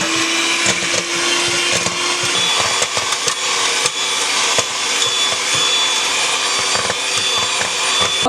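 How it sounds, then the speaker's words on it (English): An electric hand mixer beats coconut milk with a continuous close, loud whirring drone, its motor pitch dropping slightly early on and then holding steady, with occasional rattles against the bowl. "And I have my mixer here. So I'm gonna mix this until, just like I did before, until it becomes nice and stiff."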